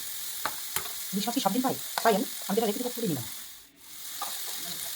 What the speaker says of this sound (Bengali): ভালো করে নুন হলুদ দিয়ে কষিয়ে নিচ্ছি।